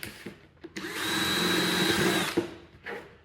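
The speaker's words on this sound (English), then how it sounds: "you drill a bunch of holes on the side around the rim" A power drill boring a hole through the rim of a plastic bucket, one continuous whining burst of about a second and a half, close and moderately loud, with small handling knocks before and after.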